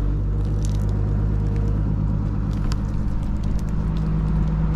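A Daewoo digger scoops the hardened manure crust out of an old farm slurry store, its engine a loud, close, steady low rumble with faint squelching and crackling from the bucket, and no voices.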